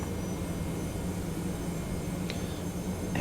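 A TFDi Boeing 717-200 in a flight simulator rolling for takeoff, its engines a steady, even roar with a low rumble that stays constant throughout the short stretch.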